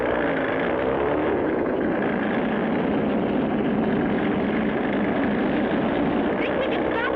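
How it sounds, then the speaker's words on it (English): Engine roar of a specially built oil tanker plane preparing for takeoff, a steady and dense drone filling the whole stretch with no letup. "That's a specially built oil tanker plane."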